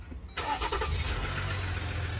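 A Dodge vehicle's engine turns over and catches at a filthy dealership, settling into a steady, close, loud idle rumble with no talking.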